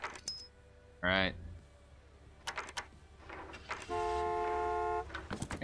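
Car horn honks in the Gas Station Simulator video game: a short burst near one second, then a longer steady blast of about a second, loud against quiet background noise.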